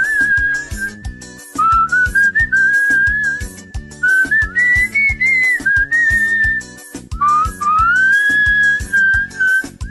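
A man whistles a continuous wavering melody with slides and held notes, loud and close over a rhythmic backing track with steady beats.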